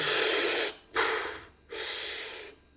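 Slow, deep breathing close up: three long airy breaths, each lasting well under a second to about a second, separated by brief quiet pauses, calm and steady with no talking.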